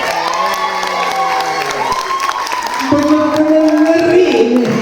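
Audience at a health talk event in Tangsel claps and cheers loudly, a dense crowd roar with whoops and shouts running throughout, with some voices rising above the clapping.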